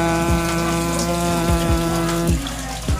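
A pond filter pump sits in the last bio chamber of a DIY pond filtration system, moving water between chambers with a constant humming whir and continuous splashing, close up with no voices.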